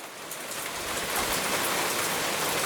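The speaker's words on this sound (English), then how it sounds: "I'm already in Thailand and it's pouring down." Heavy rain pours down in Thailand as a dense, steady downpour that fills the whole clip, loud and close with no pauses and no voices.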